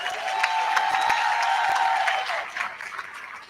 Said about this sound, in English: just a little round of applause for them and all the work that they did.